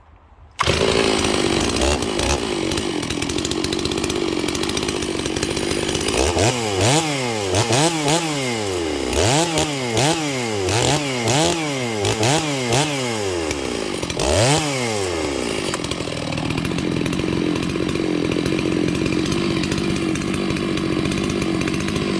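A ported Stihl MS 660 chainsaw with a Max Flo setup runs loud and close, holding a steady idle-to-mid roar broken by a series of rhythmic revs that rise and fall repeatedly, then settles back to a steady drone.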